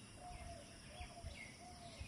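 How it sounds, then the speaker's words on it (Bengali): Small birds calling from trees in Jessore: a few short, repeated chirps and tweets at a moderate distance, evenly spaced over a quiet outdoor background with no talking. "আর কত পাখিরা ডাকে, বিভিন্ন রকমের সাউন্ড তাদের"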